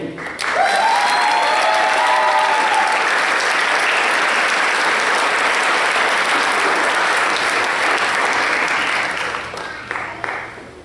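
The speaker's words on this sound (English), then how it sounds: "Let's give another warm applause for our fifth-quarter graduate intern." Sustained audience applause fills a graduation ceremony for Project SEARCH graduates in Cincinnati, dense and loud from start to finish, with a few faint voices rising over the clapping near the beginning.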